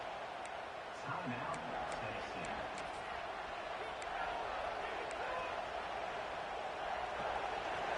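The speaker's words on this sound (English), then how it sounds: "the crowd coming to life here, trying to help this defense down in the red zone" A college football stadium crowd at a Tennessee versus Oklahoma game roars to back the defense on a goal-line stand in the red zone. The cheering is a distant, steady wash beneath a commentator's talk.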